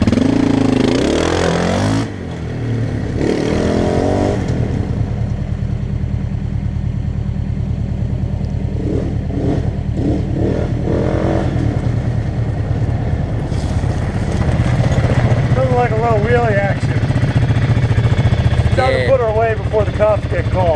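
A Bombardier DS650 ATV engine runs steadily while riding, a continuous loud droning rumble with wind buffeting and rising revs, and a voice shouts briefly in the middle and near the end.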